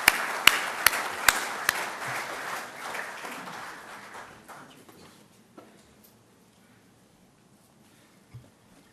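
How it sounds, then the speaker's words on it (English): An inauguration audience breaks into applause, a few sharp claps at the start then a crowd clapping together before it thins out and fades to near silence. "now request Honorable Shri Asako to please come and address us amidst a warm round of applause from all of you."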